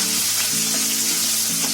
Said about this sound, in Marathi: त्याच्यामध्ये आता हा कांदा टाकते